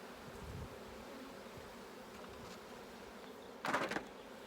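Honey bees hum steadily around an open hive being worked, with a brief louder buzz close by near the end and no talking.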